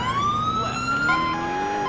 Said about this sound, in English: I think that's called the high-low siren